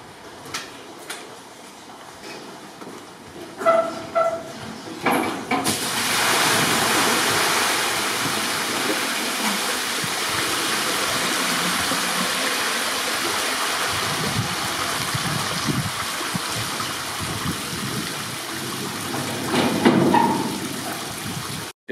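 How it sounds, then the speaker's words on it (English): Water from an automated flush system rushes loudly down the alley of a freestall cow barn, a steady broadband gushing that starts abruptly after a few faint knocks and continues for the rest of the clip. "We like this automated flush system,"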